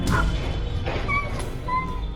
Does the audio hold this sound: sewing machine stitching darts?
no